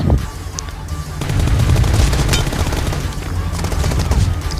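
Gunfire in PUBG Mobile rattles in fast, loud bursts, dense automatic fire rolling across most of the stretch with several sharp shots standing out.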